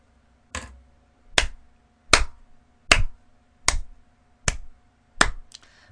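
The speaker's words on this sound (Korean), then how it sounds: "박수 칠 수밖에 없다." During a TOEIC exam-prep class, a single person claps seven sharp, crisp times at an even, deliberate pace, each clap standing alone against a quiet background.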